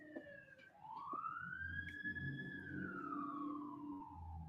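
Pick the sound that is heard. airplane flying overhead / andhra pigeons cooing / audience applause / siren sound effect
siren sound effect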